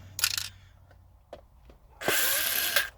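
A power screwdriver briefly whirs twice while backing screws out of the white plastic instrument cluster panel of a 2010-2019 Lexus GX460, loud and close, with faint ticks and clicks between the bursts.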